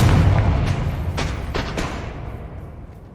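A Confringo fire spell bursts in Hogwarts Legacy with a heavy booming blast, followed by several sharp crackling impacts and a rumbling tail that fades over a few seconds.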